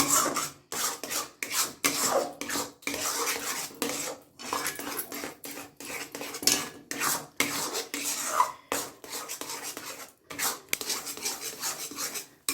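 A thickening nolen gur kachagolla mixture is stirred in a pan, with close rhythmic scraping strokes of a spatula against the metal that repeat steadily with short pauses between them.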